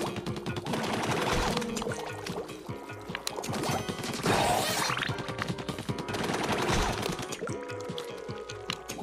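Rapid-fire shooting in Splatoon's single-player mode, a dense, continuous stream of quick shots with wet splattering and impact hits layered over game music, loud and close throughout.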